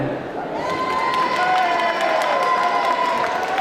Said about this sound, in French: Je vais vous demander pour ceci d'applaudir très fort Stéphane